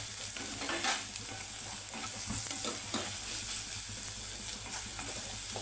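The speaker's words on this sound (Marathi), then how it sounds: "ना खूप व्यवस्थित मस्त असं मिक्स करून घ्यायचं आणि मसाला भाजून घ्यायचा" Masala with turmeric and garam masala being stirred and roasted in a pan for masoor usal, a steady near sizzle with soft repeated stirring scrapes throughout.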